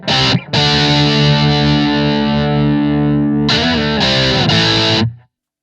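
Electric guitar through a Blackstar ID:Core 40 amp on the OD1 overdrive setting rings out with a loud, sustained distorted chord, then several shorter crunchy strums near the end, with no talking.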